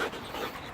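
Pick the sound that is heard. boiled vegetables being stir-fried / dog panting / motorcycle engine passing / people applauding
dog panting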